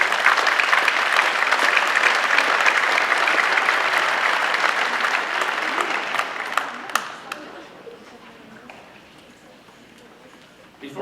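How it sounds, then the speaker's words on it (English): A crowd of parents and students at a school athletic awards ceremony gives sustained, full applause that tapers off into a few scattered claps and quiet. "Let's give them all a round of applause."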